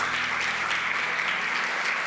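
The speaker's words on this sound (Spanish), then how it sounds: "Dele palmas al Señor, hermanos." A church congregation claps steadily during a Spanish-language Sunday service, a dense, even wash of many hands sustained throughout at close, full volume.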